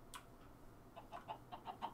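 Chickens cluck in the video game Minecraft, a quick series of short, moderately close clucks in the second half over a low background hum.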